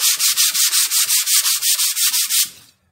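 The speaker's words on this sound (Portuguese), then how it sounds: "E vou passar as lixas necessárias." Sandpaper rubbed over wooden chair parts during a restoration, a close, loud run of about fifteen even back-and-forth strokes in a quick steady rhythm, then stopping abruptly into silence.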